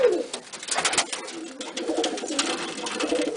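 Pigeons cooing in soft, repeated throaty calls in a breeding loft, fairly close, with a constant murmur of overlapping birds.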